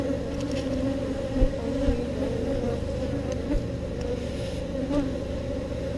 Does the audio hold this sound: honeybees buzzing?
yes